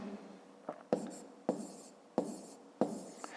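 A pen writes out long division by hand on paper, with soft scratchy strokes in a series of about five short marks at a steady pace, close and quiet.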